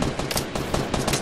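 Rapid automatic gunfire in the video game Fortnite, a close, loud burst of quick repeated shots filling the whole short moment with no talk.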